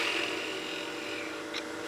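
A wood lathe tool squares off the base of a turned baby rattle, giving a continuous close scraping and rasping hiss with a faint whine underneath and a brief sharper scratch near the end.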